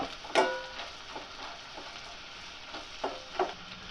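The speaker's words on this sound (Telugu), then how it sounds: "ఇందులో మనం కట్ చేసి పెట్టుకుని ఆనియన్ ముక్కలను కూడా వేసుకోవాలి వీటన్నిటిని ద్వారగా వేయించుకోవాలి" Chopped onions fry in a pan for chicken dum biryani, making a soft, low sizzle with a few light clinks and taps of a spoon against the pan.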